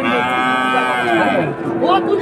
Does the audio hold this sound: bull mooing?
yes